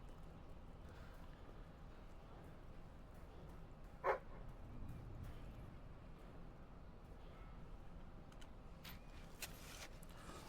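A dog in the video game Fable 3 gives a single short bark at a dig spot, standing out once against a quiet, steady game ambience.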